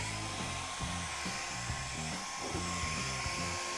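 A hair dryer blowing steadily, a constant airy whoosh with a fluctuating motor hum underneath, close and fairly loud with no talking.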